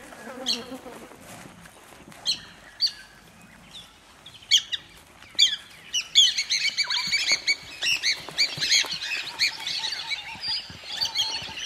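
Oxpeckers calling around a rhinoceros in the wild, with a run of sharp, high chirps and tweets that start scattered and become a dense, continuous chatter toward the end, fairly close and clear.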